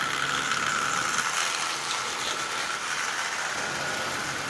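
A Marx 999 model train locomotive powered by a 12-volt car battery, giving a steady, continuous motor whir and hum with a constant level throughout and no voices.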